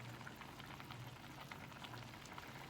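Water with pasta bubbling at a steady boil in a cooking pot for shrimp scampi, a soft continuous seething hiss heard alone.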